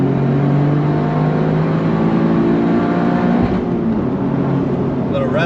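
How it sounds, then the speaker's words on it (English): A Toyota GR Corolla engine with an APEX'i N1 exhaust drones loudly at high revs, then bounces off the rev limiter in a sputtering, stuttering burst near the end. "Little rev limiter for you, so you know what it sounds like when it hits that rev limiter."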